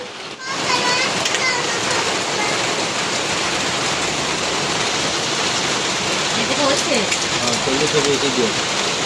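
Steady rain falls outdoors at a home where children play on the ground, a dense continuous hiss of drops on surfaces filling the whole stretch at even loudness, with faint voices underneath.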